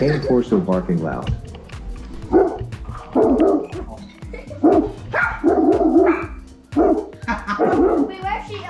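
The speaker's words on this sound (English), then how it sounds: "Cane Corso barking loud." Loud barking from a Cane Corso comes in heavy, spaced bursts, close by and continuous, with some higher yips and whimpers in between.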